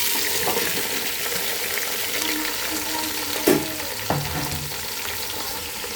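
Chopped ivy gourd and okra pieces tipped into hot oil tempering for sambar, sizzling loudly and steadily, with a couple of sharp clatters from the pan and utensil in the middle; no voices.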